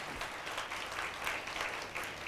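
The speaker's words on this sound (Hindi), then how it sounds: "ताली बजानी तो जोर से बजाकर प्रभु को महिमा दे" A church congregation at a Sunday service claps together in a steady, fairly loud burst of applause that holds through the short stretch.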